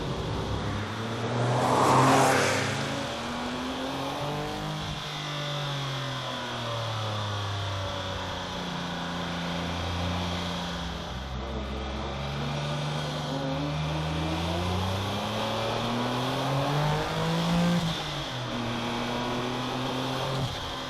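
Porsche 959 engine with all-wheel drive accelerating through the gears, a steady revving drone rising and falling in pitch as it climbs, heard from inside at moderate level without talk.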